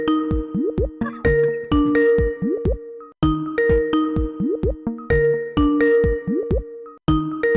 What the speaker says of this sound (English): Let me lower the sound of the bell so it doesn't hurt your ears.